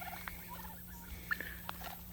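Turkeys foraging in a food forest give soft, scattered clucks and brief chirps over a faint low hum, with light rustling patter between the calls.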